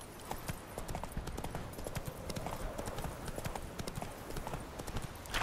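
Steady clip-clop of horse hooves at a riding pace in The Witcher 3 video game, a continuous rhythmic beat of hoofsteps heard close and fairly quiet, with no talking.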